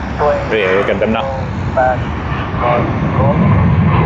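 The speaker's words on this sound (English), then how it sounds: "TG471 Thai Airways to Bangkok has begun its takeoff roll" A Thai Airways jet airliner bound for Bangkok rolls down the runway at Sydney Airport for takeoff, its steady engine roar filling the background while a person talks over it throughout.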